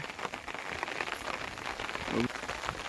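Light, steady rain pattering on surfaces outdoors under cloudy skies, a soft, even hiss with brief faint sounds mixed in.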